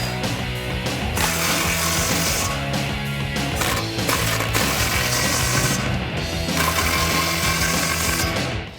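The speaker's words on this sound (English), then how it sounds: "take your 16mm open-ended wrench and your socket and tighten" Bolts are tightened with a 16mm open-ended wrench and socket while a rear bumper and tire carrier are fitted to a 1997-2006 Jeep Wrangler TJ, giving busy metallic clicks, ratcheting and clanks that run close and continuous throughout.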